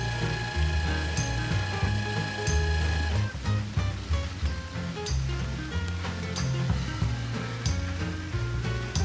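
A linear actuator motor runs outdoors in the rain under a tarp, giving a steady, close mechanical whine and hum with clicking and patter over it.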